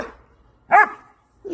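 Goldendoodle dogs bark nearby, one sharp loud bark in the middle with softer yips at the start and end.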